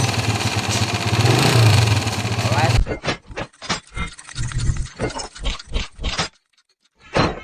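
A 125cc motorcycle engine rebuilt with a 62mm 150cc block, noisy after the swap, drones steadily up close, then cuts to a run of sharp, choppy rev bursts with brief gaps and one final blip.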